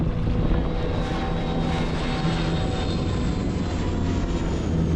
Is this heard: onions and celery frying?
no